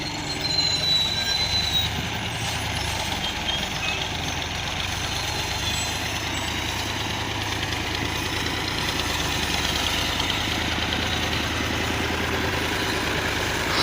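A Ghazi tractor towing a heavily loaded straw trolley reverses in a village, its engine a steady, continuous rumbling drone with grinding, rattling mechanical noise throughout, fairly loud and unbroken.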